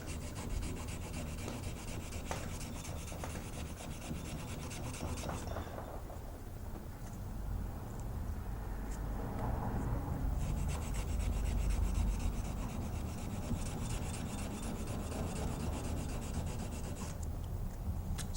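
A knife blade is hand sanded with water, steady back-and-forth rasping strokes in a close, continuous rhythm that pauses briefly before resuming.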